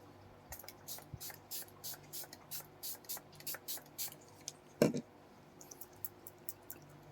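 Makeup setting spray mists onto a face in a quick run of about a dozen short, soft hissing spritzes, close and quiet, with a louder knock partway through.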